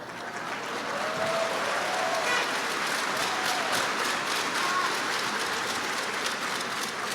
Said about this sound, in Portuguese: are you guys clapping?